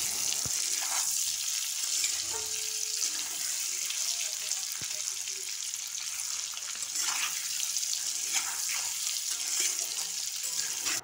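Boiled, peeled potatoes fry in oil in a kadai, producing a steady close hiss of frying. Occasional faint clinks of a utensil sound through it, and no one speaks.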